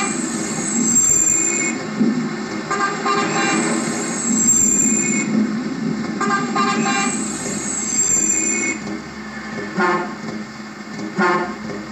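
Bus horn number three from the Bus Simulator Indonesia game, a loud, tonal blast that repeats about three times over a steady rumbling vehicle background.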